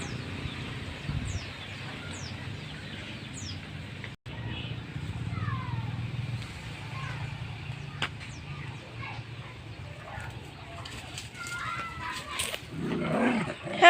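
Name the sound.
dogs squabbling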